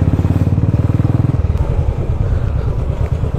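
A motorcycle engine rumbles loud and close with a rapid, steady pulse, then settles into a rougher, lower drone as the bike rides along a mountain road near Singtam in North Sikkim where road construction is under way.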